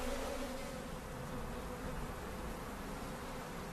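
Honeybee drones buzzing inside a colony carrying a high Varroa mite load, a dense continuous low hum, steady and close with no pauses.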